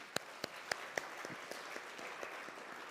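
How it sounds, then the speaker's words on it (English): A few conference attendees clap, sparse and quiet, individual hand claps audible in an uneven rhythm that thins out quickly. "I think we need to clap for all our presenters once more"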